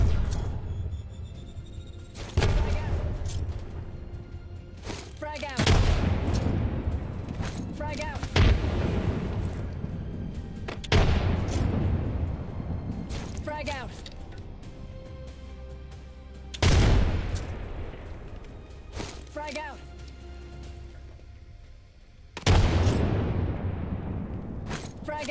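Rapid explosions and gunfire in a shooter video game after an Arcstar grenade is thrown, several loud booming blasts with bursts of firing between them, close and heavy, with no talk.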